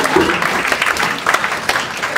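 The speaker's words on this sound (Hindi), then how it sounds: "हाँ ताली इनके लिए बजाना" An audience claps in steady, lively applause at a Hindi poetry stage show, a brief burst of many hands heard close and alone.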